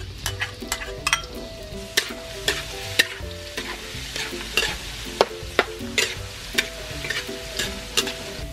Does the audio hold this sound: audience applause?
no